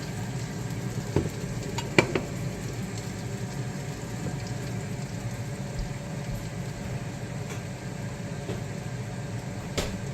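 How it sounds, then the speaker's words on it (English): Bacon frying in a pan on a keto cooking day, a steady close crackle and sizzle with occasional sharper pops, continuous throughout and without voices. "The bacon's cooking fast today."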